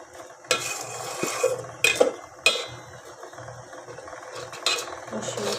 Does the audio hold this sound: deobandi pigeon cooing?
no